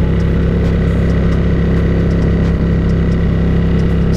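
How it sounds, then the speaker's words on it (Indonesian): A Ducati Diavel motorcycle cruises at a constant speed on cruise control, its engine droning loud and steady with no change in pitch, heard up close while riding. "So, tanpa perlu digas, motornya tetap melaju ya bro."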